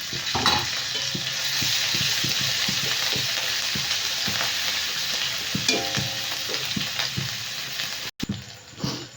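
Slit green chillies, onion and ginger-garlic paste sizzle steadily in hot oil in a pan for prawn malai curry, with close continuous frying hiss and periodic spoon scrapes and taps, no talk.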